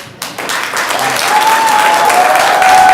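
Audience applause at a zoning advisory board meeting, a dense wash of clapping that swells after a brief start and holds steady and fairly loud to the end, with a faint tone running beneath.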